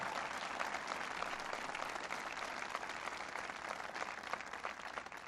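Crowd applause at a political event hosted at Nike headquarters, a steady wash of many hands clapping at moderate distance, continuous and even for several seconds.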